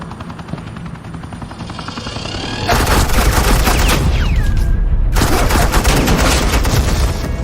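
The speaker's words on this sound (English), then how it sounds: "suppressing fire" Rapid bursts of automatic gunfire as suppressing fire in the Batman Telltale video game, loud and dense, breaking in sharply after a quieter rumbling opening and continuing almost without pause, with a brief gap before resuming.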